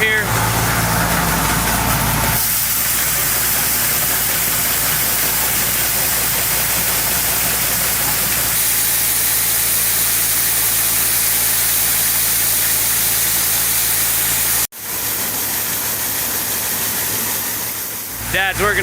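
A pickup truck engine runs loud and steady on an icy farm driveway in January, a constant close rumble with a voice talking over it.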